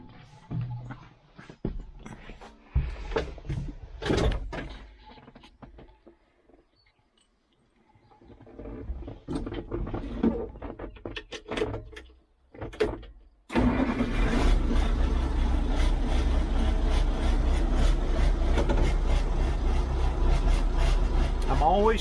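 A Massey Ferguson 1105 tractor cranks through several quiet, intermittent attempts amid birdsong and some talk, then catches and settles into a loud, steady diesel idle close by.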